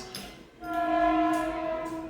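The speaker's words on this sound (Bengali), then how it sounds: "এই দেখো ট্রেনের আওয়াজ আসছে" A train rumbles past nearby, its loud sustained horn blaring over the rolling noise of the carriages.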